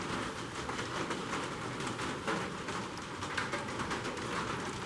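Rain falls steadily outdoors at a farm and heritage center in Georgia, a dense, even hiss of drops that stays constant throughout with no distinct individual impacts.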